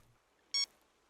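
A single short electronic beep from a metal detector hunting for iron in the survival game Sunkenland, clear and isolated against near silence.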